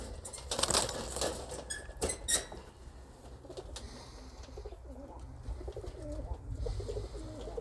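Pigeons, including a yellow cock bird, give soft repeated coos among scattered chirps and light patter in a loft, fairly quiet and steady throughout.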